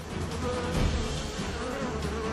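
Honeybees clustered around a hornet, fighting it, make a thick, continuous buzzing hum, close and unbroken throughout.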